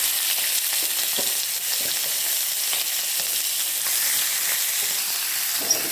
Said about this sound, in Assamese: মাংসখিনি অলপ ৰিফাইন দি অলপমান ভাজি লওঁচোন